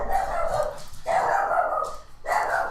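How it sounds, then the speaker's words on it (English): A dog barks excitedly indoors in a few loud, drawn-out bursts separated by short gaps, somewhat muffled as if from a nearby room. "My dog's going crazy right now."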